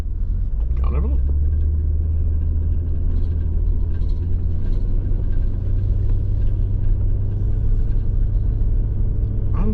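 A car travelling on an unsealed gravel road, a loud, steady low rumble of engine and tyres heard from inside the cabin, continuous throughout with no talking.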